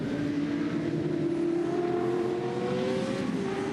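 Touring Car Masters race cars sweep through a turn at Winton, their engines a loud, steady roar with rising and falling pitch as they pass close by.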